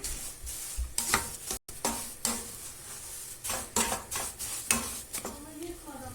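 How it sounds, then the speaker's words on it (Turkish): Syrup is poured slowly into hot semolina halva on the counter, making soft, irregular sizzles and stirring scrapes, a faint close-up texture of wet bubbling and spoon clatter. "tezgahın üstünde yavaş yavaş şerbetimi ilave edeceğim."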